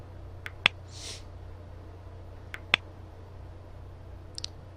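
A computer mouse clicks a link on a web page. Two sharp, separate clicks come close and clear over a low steady hum, with a few fainter ticks around them.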